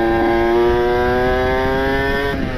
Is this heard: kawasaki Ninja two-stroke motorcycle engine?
yes